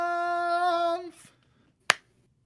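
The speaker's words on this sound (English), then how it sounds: "Just one clap." A single sharp hand clap rings out alone after a sustained sung or hummed tone fades, close and crisp against near silence.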